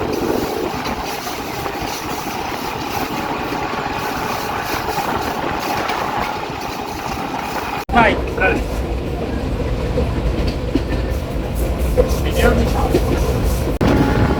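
The Rajbari Mail, a passenger train, runs near Faridpur railway station with a steady loud rumble and rattle heard from inside a carriage. A brief clunk comes midway, and the noise continues unbroken.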